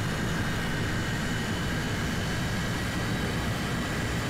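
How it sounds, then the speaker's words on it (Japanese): MiG-19PT jet on an afterburner takeoff in War Thunder, a constant dense engine roar with broadband rumble that stays loud and unchanging from start to finish. "アフターバーナー点火。 離陸。"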